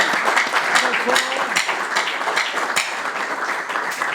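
An audience at a televised school quiz contest applauds, a fairly loud, steady wash of clapping with scattered sharper claps and some voices mixed underneath.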